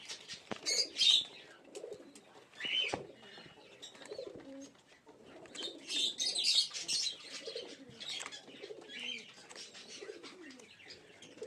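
Pigeons, including black fantails, coo softly in low, repeated murmurs, broken by bursts of wing flapping and a few chirps nearby.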